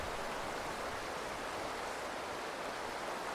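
The Azusa River, the upper Sai River flowing from Mount Yari past Kamikochi toward Matsumoto, gives off a faint, steady, even rush of water.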